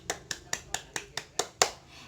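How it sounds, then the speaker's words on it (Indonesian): Children clapping in a classroom, about eight sharp, evenly spaced claps in a steady rhythm, fairly close and moderately loud, with no talk over them. "Tepuk tangan dulu anak-anak"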